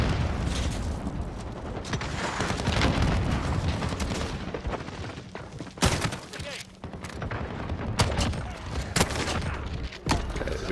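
Heavy shotgun blasts from Call of Duty Modern Warfare fire among continuous dense gunfire and booming explosions, loud and chaotic throughout.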